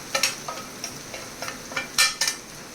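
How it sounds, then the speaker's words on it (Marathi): Red chili powder, turmeric and spices stirred into cooked onion and tomato in oil for a Maharashtrian stuffed eggplant masala: a series of short spatula scrapes and clinks over a faint sizzle, with no talking. "आणि हे एकत्र करून घ्यायचं, एकजीव करून घ्यायचं छानपैकी."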